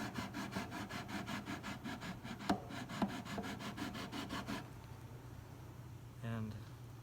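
Fret leveling block rubbed back and forth along guitar frets, a rapid, regular rasping stroke rhythm, close and clear, stopping partway before a short voice is heard.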